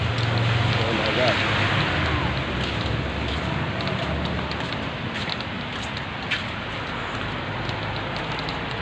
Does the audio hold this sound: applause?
no